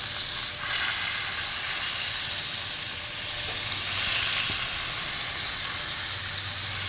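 Short ribs searing in a hot pan, a loud, steady, close sizzle with a bright frying hiss that holds throughout and no voices.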